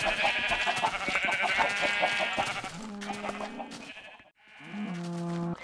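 Sheep bleat in a blocky video game farm, two or three drawn-out wavering calls close by and fairly loud, one after another with no talking.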